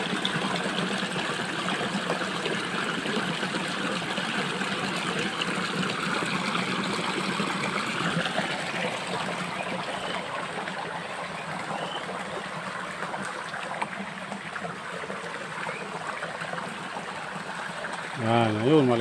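A river flows steadily in a broad, continuous wash of water, with people talking over it throughout.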